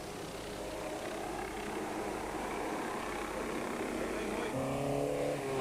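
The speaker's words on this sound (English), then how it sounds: "the Toyota sounding strong" A Toyota rally car engine during a 1990 rally, a steady, loud, continuous motor roar throughout, rising into a clearer revving tone near the end, with a commentator's voice over it.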